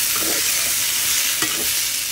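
Mixed vegetables (aubergine, cauliflower, Brussels sprouts and potato) fry in a pan with a steady, close hissing sizzle that runs the whole time. A brief scrape of stirring comes near the middle, and no one speaks.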